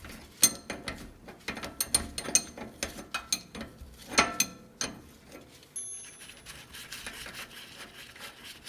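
A hand ratchet turns a sway bar end link nut on a 1980-1996 Ford Bronco, with close, sharp clicking strokes in quick bursts that then trail off into softer handling noise.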